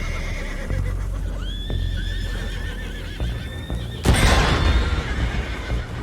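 Horses in the video game Red Dead Redemption 2 give several loud, close whinnies and neighs with clip-clopping hooves beneath, and a burst of heavier galloping and commotion comes near the end.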